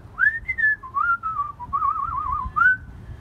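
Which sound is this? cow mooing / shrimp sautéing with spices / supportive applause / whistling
whistling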